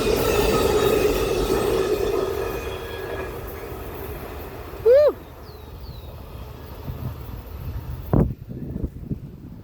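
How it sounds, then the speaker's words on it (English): A train rolls past on nearby tracks with a steady rumble that fades. A brief high squeal follows, then a sharp bang near the end, over wind noise and light background voices. "Here comes the train."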